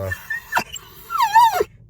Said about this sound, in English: the dog is panicking because he only likes my wife